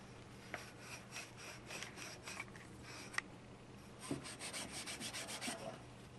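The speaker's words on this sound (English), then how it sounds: "So I'm doing this by hand with steel wool." Steel wool rubbed by hand over the metal of a surplus SKS rifle, giving a close, steady dry scratching in repeated short strokes with a brief pause midway.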